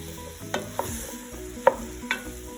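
A spoon stirs chopped vegetables into a thickened roux for shrimp étouffée, making steady close scraping and stirring strokes over a continuous frying sizzle, with a few sharper scrapes against the pot.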